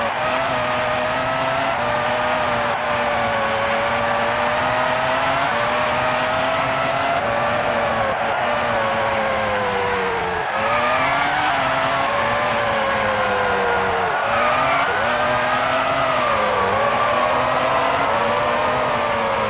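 A Formula 1 race car engine in the PS1 video game, a continuous loud high-pitched whine rising and falling with gear changes and occasional tire squeal, steady throughout with no talking.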